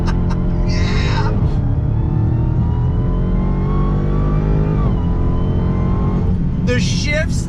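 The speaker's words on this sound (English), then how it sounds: "you hit the launch control button, it lights up, and then you're off. Hold down the foot, give it throttle." A car launches hard from launch control in track mode, its engine roaring loud and steady from inside the cabin, with rising tones and excited voices breaking in near the start and end.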